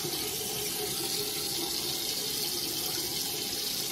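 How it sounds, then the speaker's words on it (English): A bathroom faucet runs in a strong, steady stream while hair is wetted, a loud continuous rush of water close by with no voices over it. "I'm just gonna wet it real quick"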